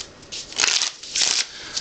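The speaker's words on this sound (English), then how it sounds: "as I was shuffling, my natural shuffle looks just like that" Playing cards are shuffled by hand in a magic trick demonstration, giving two or three quick riffling bursts of crisp, papery fluttering, close and clear with no talk.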